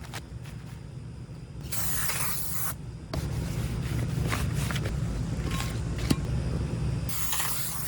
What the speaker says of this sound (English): Then you want to clean your rotor with some brake clean.